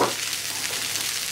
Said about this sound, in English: Then I need to stir until that come nice and soft